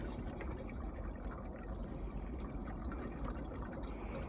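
Liquid pours steadily as 99% alcohol is added to homemade car washer fluid, a faint continuous trickling and splashing without speech.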